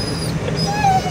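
A dog whimpers with thin, rising whines and soft yips inside an A-frame camper on a camping trip, close by and fairly steady over low background noise.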